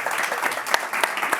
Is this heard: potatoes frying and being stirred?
no